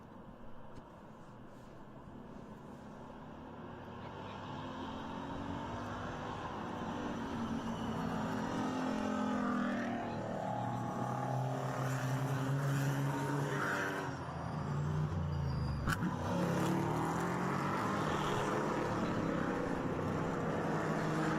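Pirelli World Challenge GTS race cars braking and accelerating through turn 4 at Canadian Tire Motorsport Park, engines rising and falling in pitch as the field sweeps past, one loud pass overlapping another, with no commentary.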